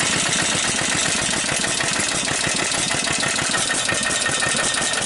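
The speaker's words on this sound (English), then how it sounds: "Starting the engine up. It's cold." A cold opposed-twin engine runs just after starting, with a loud, close, rapid chugging and clattery knocking beat over a rough, noisy wash that holds steady throughout, with no talking.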